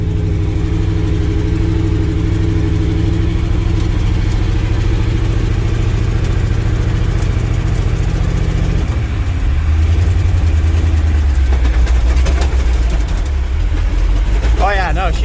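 A 1967 International 4x4 truck's engine runs loud and close, idling and then revving as the rear tires spin on a driveway, with a steady low drone shifting pitch partway through.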